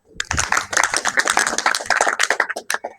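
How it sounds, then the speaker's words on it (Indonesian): A class of students claps together during a physical education lesson on basic sickle and straight kicks, a dense, steady burst of overlapping hand claps close by that thins out toward the end. "Oke, tepuk tangan."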